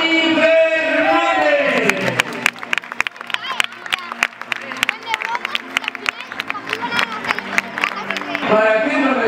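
A stadium crowd cheers and applauds at the CD Castellón 2014-2015 squad presentation as a new midfield signing is welcomed, the loud, dense clapping and cheering rising and falling steadily throughout.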